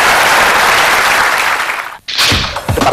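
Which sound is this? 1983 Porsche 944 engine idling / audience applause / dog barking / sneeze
audience applause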